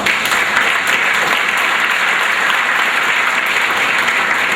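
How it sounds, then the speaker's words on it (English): Steady, full applause from a banquet audience at a senior sports banquet, dense continuous clapping at constant loudness with no talk over it. "he deserves a nice round of applause"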